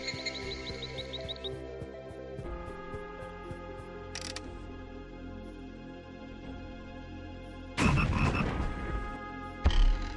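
Frogs croak in a busy electronic soundscape over steady tones in the PC game Forbidden Forest 3, followed by a few louder thumps and rustling bursts of frogs jumping near the end.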